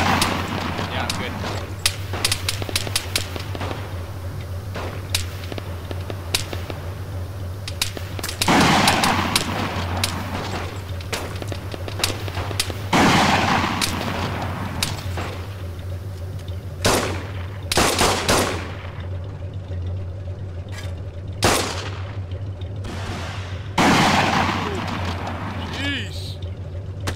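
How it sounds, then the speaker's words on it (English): Sharp bursts of gunfire from Arma 3 in a World War II Poland 1942 scenario, several loud shots and short volleys spread across a steady low engine-like drone, with people talking over it. "Taking rounds down the road on the left side of the road."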